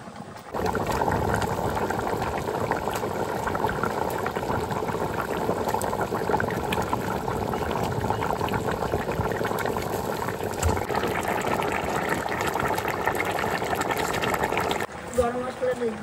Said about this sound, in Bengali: ঝোল ফুটে গেছে, এবার মাছটা দিয়ে দিই।